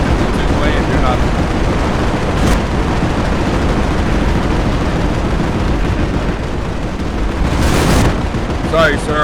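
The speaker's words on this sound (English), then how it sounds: "Keep shooting as you move." Dense, loud gunfire and explosions fill a Planetside 2 battle, with bursts and booms overlapping continuously, close and chaotic, while voices speak over the fighting.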